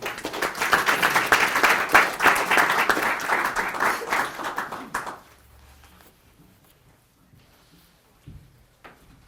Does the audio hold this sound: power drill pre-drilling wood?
no